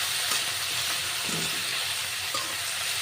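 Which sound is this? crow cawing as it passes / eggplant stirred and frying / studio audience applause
eggplant stirred and frying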